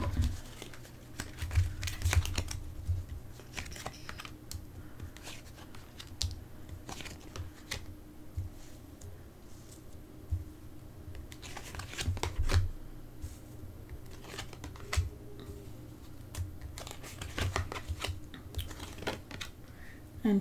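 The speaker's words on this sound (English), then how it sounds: "I already shuffled the cards off camera, but I'm going to do it on camera just for your viewing pleasure." A deck of angel advice oracle cards is shuffled over and over, giving a close, crisp run of riffling, patting and flicking sounds with brief taps and pauses and no talking.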